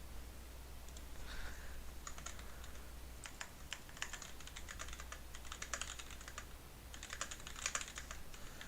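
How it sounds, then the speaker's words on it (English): Clicky keystrokes on a Razer mechanical keyboard come in quick, uneven bursts, faint and close against a low steady hum, with no talking. "I have a Razer mechanical keyboard. Really dope."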